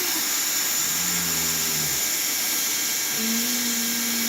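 A walking hot-air welder on roofing membrane, its blower giving a loud, steady hiss with a motor whine that shifts pitch as it moves along the seam.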